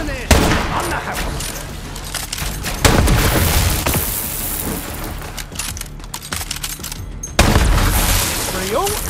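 Gunfire in Borderlands 3 rattles in dense volleys with heavy booming impacts, loud and near, surging at several points over a busy battle bed while voices shout over it.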